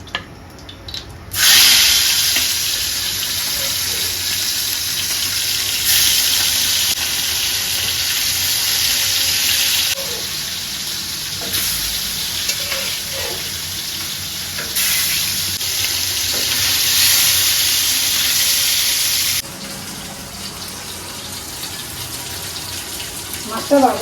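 Hilsa fish seasoned with turmeric and salt fries in hot oil on a tawa in a village kitchen, making a loud, continuous hiss that swells and eases in waves over the whole stretch.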